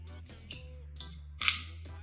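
A WE PX4 gas blowback airsoft pistol being cocked, a series of close, sharp metallic clicks and snaps with a sliding rasp, ending in a louder crisp clack, with no talk.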